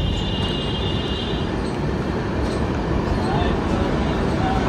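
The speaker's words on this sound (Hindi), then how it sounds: "तो मेट्रो जा रही है।" A Delhi metro train rumbles past with a steady, continuous roar of wheels and traffic-like noise, heard nearby at an even level throughout.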